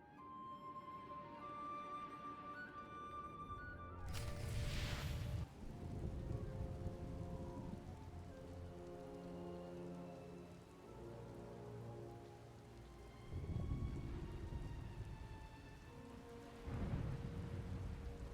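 Rain pours steadily while thunder rolls in several heavy rumbles during a storm in Star Wars: The Old Republic, set under soft game music with no talking.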